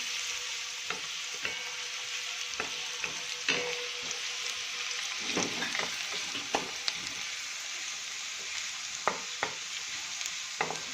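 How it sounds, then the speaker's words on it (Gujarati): Onions sizzle steadily in a pan over medium heat, with a spoon scraping and stirring now and then, close and alone without voices. "ડુંગળીને આપણે ધીમા તાપે આ રીતે મીડિયમ ગેસ ઉપર થોડી વાર સાતળીશું"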